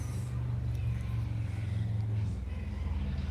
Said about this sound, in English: sorry for the car noise.